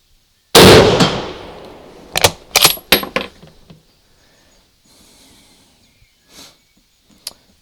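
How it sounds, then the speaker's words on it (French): One loud, cracking shot from an SMLE MkIII* rifle chambered in .303 British, with a quick decaying echo, followed by several sharp metallic clacks of the bolt being worked and faint handling noises afterward. "ça claque fort hein, quand même, c'est 303 British"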